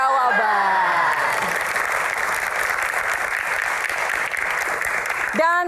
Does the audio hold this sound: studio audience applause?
yes